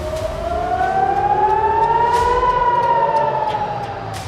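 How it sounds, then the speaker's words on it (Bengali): An air raid warning siren in Israel wails loud and steady, its single tone slowly rising and then gently falling over several seconds, with no other sounds around it. "ইসরায়েলে যখন কোনো নিরাপত্তা ইস্যু হয়, ওই পার্টিকুলার সময় ইসরায়েলে এই ধরনের সাইরেনের শব্দ শোনা যায়।"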